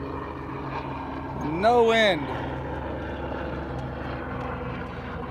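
A low whirring helicopter drone overhead fills the background near a harbor while someone speaks briefly over it.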